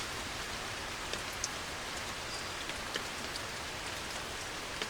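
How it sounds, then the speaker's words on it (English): Steady outdoor rain falls continuously, with scattered sharper drops pattering on a surface and no other sounds. "I predict this rain will stop soon."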